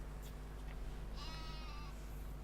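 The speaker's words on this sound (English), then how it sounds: "the sheep now have sufficient water as well" Sheep bleating in the Farming Simulator 17 video game, one drawn-out bleat in the middle rising over a steady low hum and faint ambient noise.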